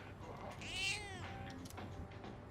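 A stray cat in the video game Persona 3 Reload gives one clear, drawn-out meow, loud and close over quiet game background sound.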